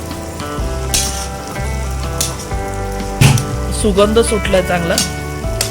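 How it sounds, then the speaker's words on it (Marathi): Gram flour (besan) roasts in hot oil in a home kitchen pan, a soft continuous sizzle with occasional stirring scrapes, partly under a voice and background music. "तेलामध्ये छानपैकी आपण मस्त बेसन परतून घेऊया"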